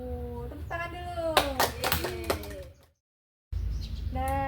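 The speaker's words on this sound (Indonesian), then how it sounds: "Tepuk tangan dulu." Schoolchildren in a third grade classroom clap their hands together, a rhythmic patter of small hands under a teacher's and children's chatter, cutting to silence briefly before voices resume.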